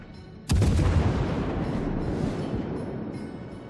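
French cruiser guns in World of Warships fire one sharp, heavy boom, and a long rumbling roll of battle noise trails behind it.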